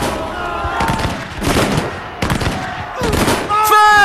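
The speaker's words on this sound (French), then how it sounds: "les premiers coups de feu retentissent" Musket volleys crack out during the Battle of Waterloo, dense overlapping gunfire in repeated bursts, loud and close, with shouted commands mixed in.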